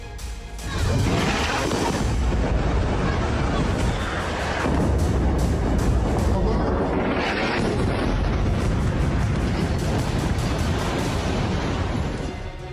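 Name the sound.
explosions from Israeli air strikes on Beirut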